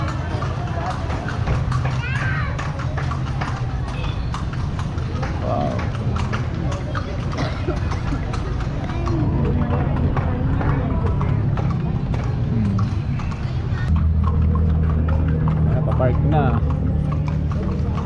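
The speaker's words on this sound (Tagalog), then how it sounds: "Mabilis yung kabayo namin." Horse hooves clip-clopping at a quick pace while people ride during a family vacation in Ilocos, a steady rhythmic beat heard close under continuous talking and a low vehicle-like rumble.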